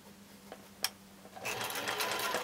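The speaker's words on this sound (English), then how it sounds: "Now I'm stitching this seam" A sewing machine stitches a quilt block seam, a couple of faint taps first, then a steady close run of rapid stitching that carries on to the end.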